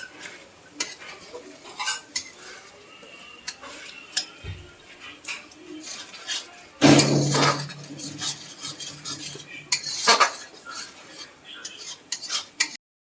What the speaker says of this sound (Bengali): লঙ্কা বাটাটা দিয়ে আরো কিছুক্ষণ কষিয়ে নেব